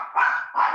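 A dog barks twice in quick succession, close and fairly loud, each bark drawn out with a slightly whiny tone, with no talking.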